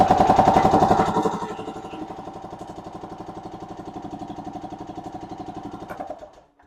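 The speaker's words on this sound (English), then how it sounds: "I just want to show you that this fuel pump is pumping well" A Yamaha G1 golf cart engine runs at a steady idle with a fuel pump working, giving an even mid-pitched rhythmic chugging that is louder for the first second, then holds level before cutting off near the end.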